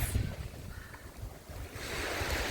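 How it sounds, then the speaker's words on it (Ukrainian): Calm sea waves washing gently onto a beach in Odesa, a soft, low surge that swells toward the end, mixed with wind buffeting the microphone and no voices. "Така тиша, море спокійне, все навколо спокійне, клас."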